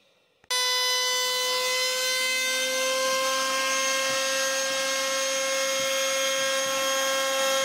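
A DeWALT table saw spins up abruptly and runs loud and close with a steady, high, ringing whine while cutting wood for a tenon jig, continuing unbroken to the end.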